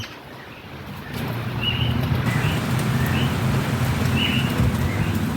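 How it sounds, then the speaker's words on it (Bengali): Continuous rain falls on a cold, windy day as a steady, fairly loud hiss that swells after the first second, with faint bird calls now and then above it. "এখনও পর্যন্ত লাগাতার বৃষ্টি হয়েই যাচ্ছে"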